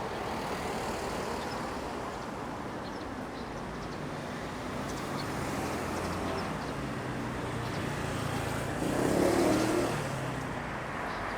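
A car pulling onto an automated parking elevator on a downtown Jongno street in Seoul, a low engine rumble with a faint rise near the end over steady background traffic, heard from moderately close.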